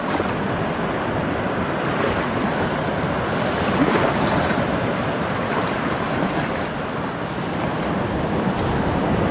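The Colorado River flowing through the Paria riffle near Lee's Ferry makes a steady, dense rush of moving water, loud and continuous, with some wind noise on the microphone.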